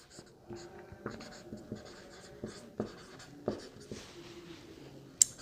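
Marker or chalk strokes on a board during a class 10 maths lesson, a run of short, distinct scratching taps in an irregular rhythm, close and fairly quiet, with no talk over it.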